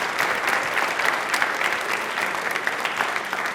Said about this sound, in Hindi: तालियां अपने लिए एक बार जोरदार बजा दीजिए भाई।